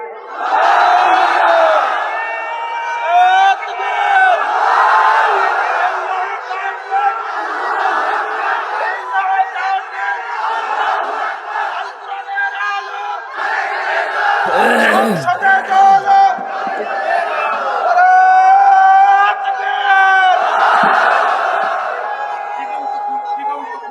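A large crowd at a Bengali Islamic waz gathering shouts takbir in unison, a loud, sustained roar of many voices rising and falling in repeated waves for the whole stretch.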